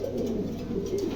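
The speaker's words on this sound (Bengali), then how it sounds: "দেখেন চমৎকার একজোড়া মুন্ডিয়ান, নতুন নিউ মডেল কবুতর" A pair of Mundian pigeons cooing close by, a soft low continuous coo with no talk.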